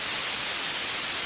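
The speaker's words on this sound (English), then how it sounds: "like, white noise." Steady hiss of white noise from a flash video game, even and continuous across the short stretch with no other sounds over it.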